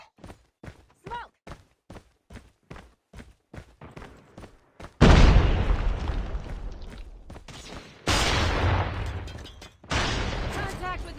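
Assault rifle fire in Call of Duty Mobile Search and Destroy: short spaced bursts of shots at first, then long loud sustained automatic volleys, close and dominant, with game voice callouts between.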